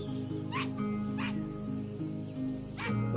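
A dog named Rufus barks three times in a game scene near a lake and waterfall, short sharp yips spaced apart over a steady musical background hum, fairly close, with no one talking.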